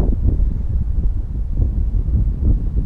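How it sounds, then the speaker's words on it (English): Strong wind on a lake during cold-front bass fishing buffets the microphone with a continuous loud, low rumble that has no pauses. "This wind is serious."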